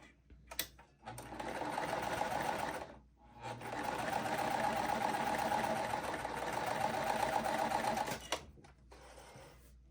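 A sewing machine stitches fabric for quilt piecing in two close bursts of rapid, even needle chatter, the first brief and the second longer, separated by a short pause and ending with clicks.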